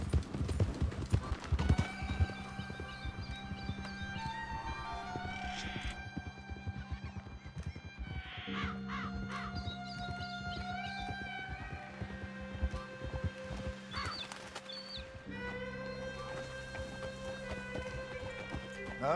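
Horse hooves clip-clop at a steady rhythm in Red Dead Redemption 2. They are accompanied by sustained tonal game music, and brief sharper hits and faint sounds are mixed in over about nineteen seconds.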